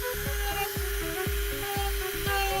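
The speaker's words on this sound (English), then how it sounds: "What's nice about using the Dremel" A Dremel rotary tool carves and rounds over the edges of a foam Halloween pumpkin, its high whine pulsing in quick, regular bursts close by, with no talk.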